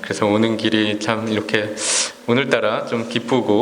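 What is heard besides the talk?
No everyday noise stands out behind the speech.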